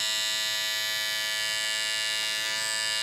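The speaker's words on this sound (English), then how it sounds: "The power that this bevel trimmer has, I can also kind of shape and form" A Bevel beard trimmer runs continuously, a steady close electric buzz with a strong harmonic whine that holds without pause throughout and has no talk over it.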